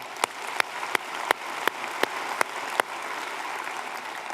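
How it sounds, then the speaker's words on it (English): Applause for award winners at a conference opening ceremony comes through soft and distant, overlaid by sharp, regular clicks spaced roughly every third of a second. "Maybe another quick round of applause for all of our winners."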